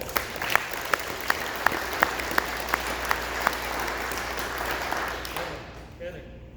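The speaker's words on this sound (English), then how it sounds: "let's just give a round of applause to those guys" A round of applause fills a staff stand-up meeting, with steady group clapping and a few sharper claps standing out. It holds evenly for about five seconds and then fades off toward silence.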